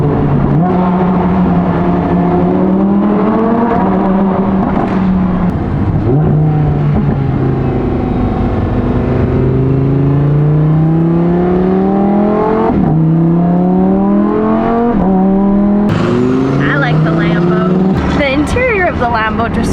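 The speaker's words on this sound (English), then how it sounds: "really love the little burble and pop that these cars make" Lamborghini engine revving through a dual-clutch gearbox, with rising and falling harmonic sweeps as it climbs through gears and a sharper rev near the end, loud and continuous, with burble and pops from the exhaust under a speaking voice.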